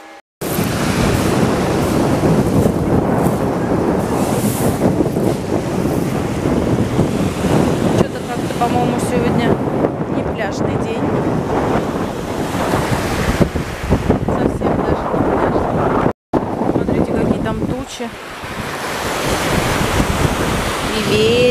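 Waves wash continuously onto a beach in Spain under heavy wind blowing across the microphone, a loud steady roar with one brief dropout.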